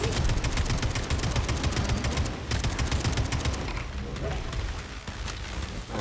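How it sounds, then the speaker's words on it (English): Sustained gunfire in the combat video game Atomic Heart, a loud, dense rattle of rapid shots running continuously from start to finish with game noise underneath. "I'm the one shooting"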